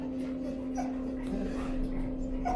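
An anxious dog whimpers and whines in an elevator, soft high-pitched cries repeating over a steady low mechanical hum, close and fairly quiet.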